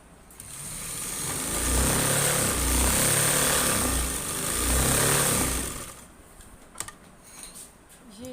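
A sewing machine runs a seam on a fabric box pleat, its motor humming in a rhythmic, pulsing run for about five seconds at close range before falling quiet, with a few faint clicks afterward.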